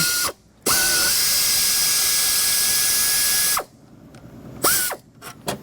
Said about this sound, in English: So this air ratchet, 8mm swivel socket right there.